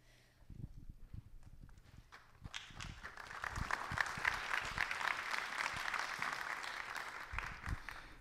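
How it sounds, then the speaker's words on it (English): Audience clapping at an evening civic event for Mayor Harry Winthrop, a few scattered claps first, then swelling into a steady, fairly loud round of applause that holds to the end. "And thanks for clapping."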